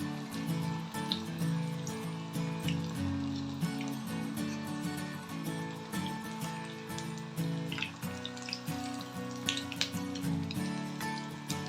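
Chana dal fritters mixed with onion, green chilli and ginger fry in hot oil, giving a steady soft sizzle and crackle with scattered pops, close and fairly quiet.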